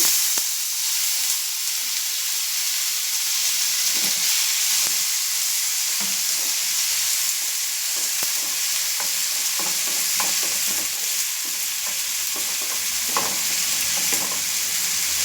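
Chopped medium tomatoes fry in a pan with a constant bright sizzle and hiss while a spoon stirs and scrapes through them at irregular intervals, close and alone without talk.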